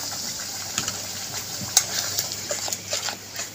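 Spice paste stir-fried in a pan for anguri aloo dum: a soft, low crackle with scattered clicks and light stirring taps, one sharper tap near the middle.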